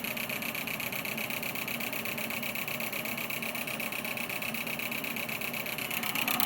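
A homemade spark gap switch device spun up and charging gives a steady, loud mechanical whirring hum with a dense high buzz, rising slightly near the end, with no talking.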